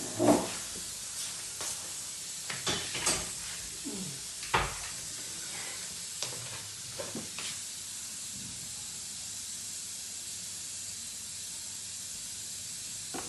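Oil poured into a pan and heated while preparing bessara, a steady hiss with a few sharp crackling bursts and clatters early on, then settling into a soft, even sizzle.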